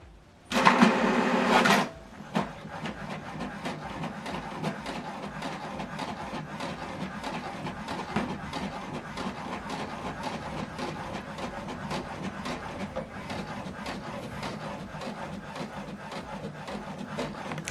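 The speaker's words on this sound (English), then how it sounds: "Now this document is printing." An HP Deskjet All-in-One inkjet printer prints a document, starting with a short loud mechanical burst, then a steady run of soft rhythmic clicks and whirs from the carriage and paper feed, close by.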